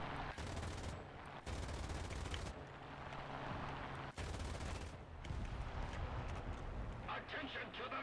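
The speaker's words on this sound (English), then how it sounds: "That's just a machine gunner." Sustained machine-gun bursts roar from an aircraft combat video game, long dense volleys separated by short gaps, loud and continuous with engine drone underneath.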